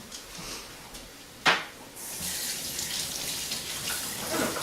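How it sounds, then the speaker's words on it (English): A cold-water tap runs into a sink for hand washing, a steady broadband hiss that starts after a brief knock and continues at moderate level. "What kind of cold ass water to wash your hands with?"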